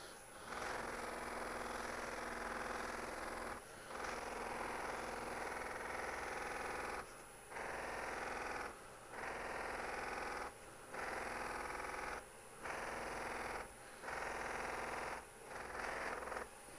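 A buffing wheel polishes a resin-turned bowl with 105 compound. A steady motorized whir runs in repeated bursts of about one to two seconds, with brief gaps between passes.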